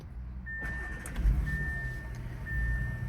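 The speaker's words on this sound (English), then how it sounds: "Car started for you guys with the window open" A 2024 Audi A6 S Line quattro idling just after starting, heard through an open window as a low, steady engine rumble with a faint thin whine, close and moderate in level, no talk.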